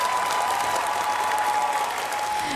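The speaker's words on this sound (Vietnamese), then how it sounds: "Vỗ tay cho chị Khả Như." Steady, continuous applause from a crowd, dense clapping with no gaps, sustained throughout at a fairly loud level.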